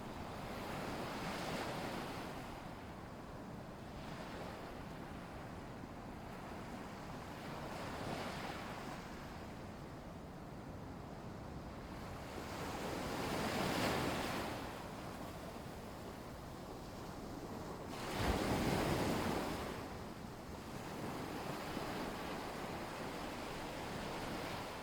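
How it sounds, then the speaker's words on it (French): Ocean waves roll and crash in slow surges over a constant wash of surf and wind, with no voices. "Le souffle des vagues"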